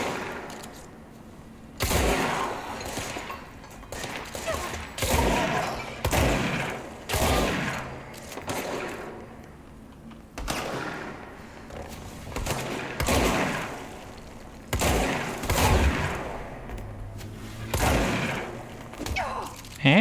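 Repeated bursts of gunfire from the video game Control, irregular volleys and single shots spread across the stretch, loud and close with thuds between them and no talk over them.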